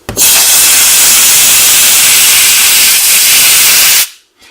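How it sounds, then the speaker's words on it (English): Compressed air hisses in one steady, loud burst for about four seconds while drying alcohol off the circuit board of an M&S DMC 3-4 display screen during an LED backlight repair, then cuts off abruptly. "we'll use a little compressed air just to evaporate the alcohol"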